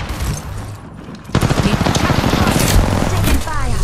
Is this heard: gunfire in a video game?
yes